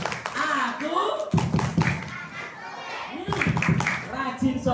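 Children at an Isra Mi'raj gathering in a mosque clap a rhythmic chant, with sharp patterned claps mixed in among chanted voices and an adult voice talking.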